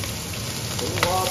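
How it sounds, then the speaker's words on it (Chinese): Chopped scallions fry in hot oil in a rural Gansu home kitchen, a steady close sizzle with a brief crackle near the end. "葱花爆香，韭菜"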